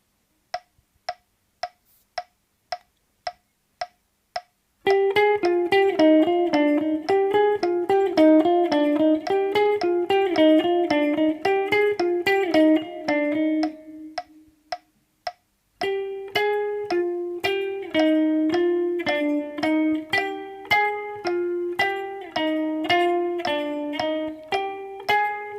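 Steady metronome clicks lead into an electric guitar playing a fast run of single notes from an outro solo, with a short pause before the line resumes against the ticking beat, close and clear.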